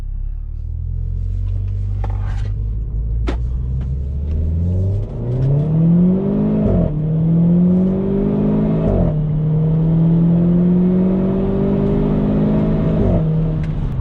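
A Renault Clio 4 RS engine in Renault Sport mode accelerates hard, its loud, steady drone climbing in pitch through each gear, with brief dips at the shifts and a continuous road rumble underneath.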